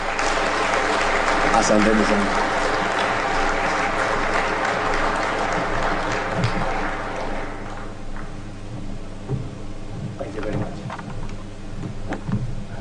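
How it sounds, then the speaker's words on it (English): Audience applause welcoming the President of Kenya at a formal gathering, loud sustained clapping that fades partway through as a speaker begins talking over it. "Please give him a heavy clap."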